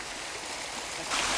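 Water rushing steadily from a waterfall, a continuous broadband hiss that swells louder and brighter near the end, with no voices.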